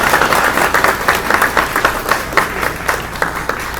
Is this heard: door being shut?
no